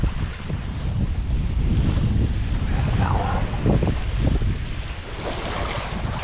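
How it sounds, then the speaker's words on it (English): Strong wind gusts buffet the microphone beside a creek, a continuous loud roaring rush with surging swells and no speech. "So windy."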